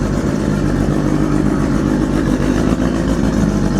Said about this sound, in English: That's enough revving on it, okay?